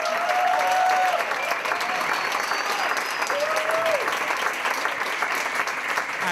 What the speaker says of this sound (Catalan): un fort aplaudiment per a Lluís!